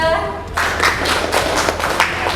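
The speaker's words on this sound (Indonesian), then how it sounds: "Beri tepuk tangan untuk kelompok 2." A brief voice, then a class bursts into steady applause for a group presentation, with many hands clapping together close by for a couple of seconds.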